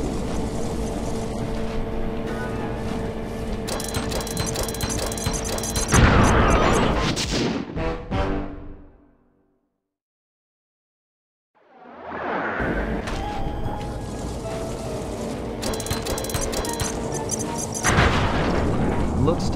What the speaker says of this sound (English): Might take some more bombs.